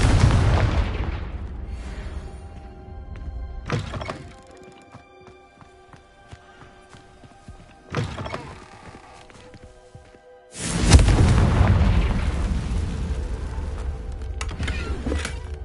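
Confringo blasting spell explosions in the Hogwarts Legacy video game: several heavy booming blasts, the last and loudest followed by a long rumbling crackle, over quieter ambient game sound.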